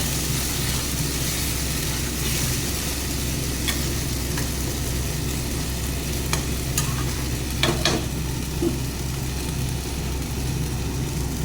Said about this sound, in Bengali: গ্যাসের আঁচটা কমিয়ে টমেটোর পিউরিটাকে ভালো করে কষাতে হবে